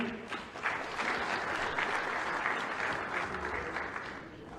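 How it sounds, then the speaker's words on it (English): An audience applauding a performer being welcomed on stage, steady continuous clapping from a large crowd, moderately distant and sustained throughout without talk. "please let's give him a round of applause."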